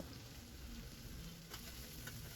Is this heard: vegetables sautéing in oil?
yes